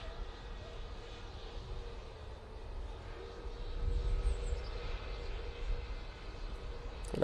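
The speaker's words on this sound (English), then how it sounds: "on short final now, we have this Pegasus A321 Neo coming in from Istanbul" A Pegasus Airbus A321neo from Istanbul lands at Manchester Airport, its jet engines giving a steady, moderately distant roar that swells slightly midway through the approach and touchdown.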